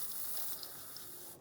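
Penetrating spray hisses from an aerosol can onto a fuel tank hose on a 1992-1996 Ford F-150, one steady quiet spray lasting over a second and then cutting off, with no voices.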